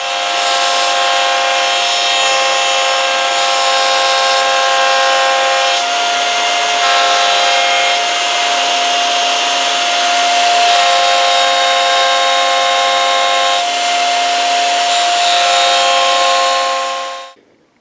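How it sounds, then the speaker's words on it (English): A router trims a headless guitar body's wood along a template, giving a loud, continuous high whine with a rough cutting hiss for nearly eighteen seconds before it cuts off abruptly. "So we'll just take a couple of passes and start taking it down and down to take all this material away."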